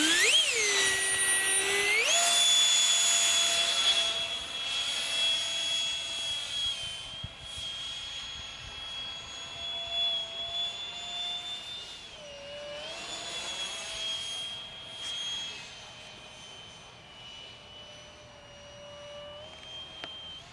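An RC F-22 model jet with a 70 mm electric ducted fan on 4s whines loudly, rising in pitch at the start, then holds a high steady howl that swells and fades as it passes.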